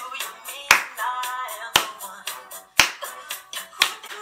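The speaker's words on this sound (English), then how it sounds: "so some of you are clapping like this." Sharp, evenly spaced claps land about once a second over a song, four crisp hits standing out above the music.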